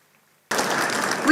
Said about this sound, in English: We welcome you, Father, with great heartfelt applause.